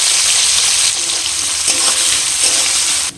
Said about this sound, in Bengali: এই তেলের মধ্যেই আমি এখানে কাঁচা ছোলা ভিজিয়ে রেখেছিলাম 5-6 ঘন্টা, ভেজে নেব।